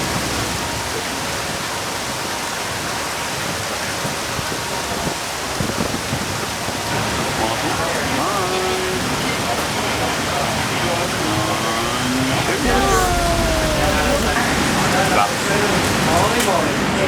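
Steady hiss of rainy-season rain pouring down in Alaska, broadband and continuous, with faint background voices and some brief tonal sounds toward the end.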